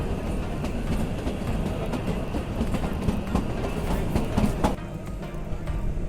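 The Kalka–Shimla narrow-gauge toy train rumbles steadily along the mountain track with rhythmic clacking of wheels over rail joints, a continuous close-up rolling noise.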